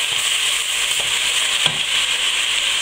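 Pork and garlic sizzling in a hot pan as they are stirred, with the meat's juices added, a loud, steady frying hiss throughout and a faint scrape or two from the spoon.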